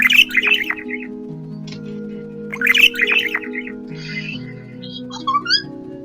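Budgie squawking in the video game Feather Family, two bursts of loud, harsh chirping calls over a steady synthesized music bed, followed by fainter tweets near the end.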